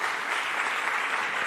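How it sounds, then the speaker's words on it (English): An audience claps at an indoor tourism conference session, giving steady, dense applause that is moderately loud and continuous, with no one talking over it. "let's applaud him and wish him all the best"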